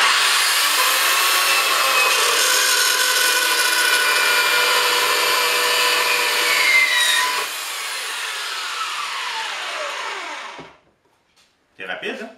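A power saw grinds steadily through a 2.5 cm metal bar for about ten seconds, its high whine dropping as the cut finishes, then a brief clatter as the piece falls to the floor after a pause.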